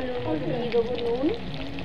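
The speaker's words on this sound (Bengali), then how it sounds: "আলুগুলোকে লাল লাল করে ভেজে নেব" Potatoes frying in oil with salt and turmeric, a brief steady sizzle with stirring and faint background voice-like tones.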